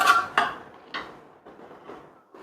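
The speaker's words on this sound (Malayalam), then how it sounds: "ചോറൊന്ന് ഇളക്കി കൊടുക്കുക." A spoon or ladle works through cooked mutton biryani rice in a pot, producing a few separate metallic scrapes and knocks spaced irregularly, close and moderately loud, each one fading quickly into quiet.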